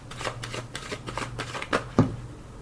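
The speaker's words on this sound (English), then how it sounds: "pull some tarot cards for these here" Tarot cards are shuffled in a string of quick riffling, flicking bursts, close and clear, with two sharper slaps near the end and no talking.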